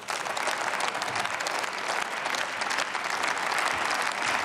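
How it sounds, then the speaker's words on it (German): Sustained applause fills the German Bundestag chamber during a debate on regulating end-of-life assistance, a dense, even patter of many hands clapping without pause from start to finish. "Und viel Applaus für Sie auch, für Ihre Meinung."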